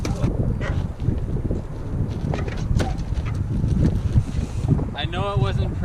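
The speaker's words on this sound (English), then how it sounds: "it's really windy right now and it's slowing down my rotation" Strong wind buffets the microphone outdoors during a bike ride, making a constant loud rumble with gusty bursts, and a brief voice comes through near the end.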